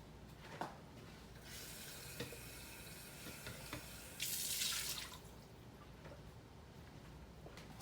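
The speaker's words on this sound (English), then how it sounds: "Rinse out your blender." Tap water runs while a blender jar used for Brazilian lemonade is rinsed in a sink, a hissing stream with small clunks that surges into a louder splash for about a second before easing back.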